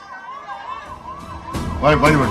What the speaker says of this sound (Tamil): இன்னொரு நம்ம ஆம்புலன்ஸ் இன்னொன்று வருதுப்பா வழி வழி விடுப்பா